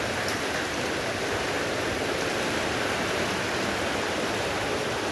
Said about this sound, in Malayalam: ആകെ കാറ്റ് മഴയാണ് ഗായ്സ്.